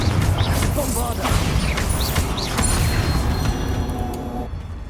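Spell blasts crash and boom in a dense, noisy Hogwarts Legacy battle, the bursts of Bombarda explosions layered with clattering impacts and bright magical whooshes, loud and continuous with faint voices mixed in.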